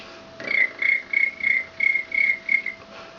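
A human voice imitates a cricket chirping with seven evenly spaced, thin, high-pitched chirps in a steady pulse, close and moderately loud, with no other sounds.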